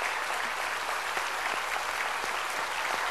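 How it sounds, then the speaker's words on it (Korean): A church congregation claps in response to a preacher's call during a sermon. The applause is dense, steady and continuous, filling the whole stretch at an even level with no voices standing out. "박수 치라요."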